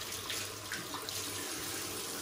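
Water runs steadily from a tap into a sink while shaving soap lather is built, a close, continuous splashing hiss with no speech.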